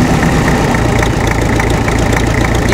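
A restored MTZ tractor engine idles unevenly, a loud, steady, close-up diesel rumble with no talk over it.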